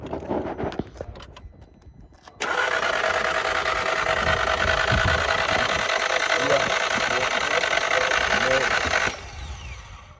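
An engine with a timing belt problem runs with a rapid, steady mechanical ticking like a sewing machine, loud and close, starting abruptly after some brief handling noise and then cutting off.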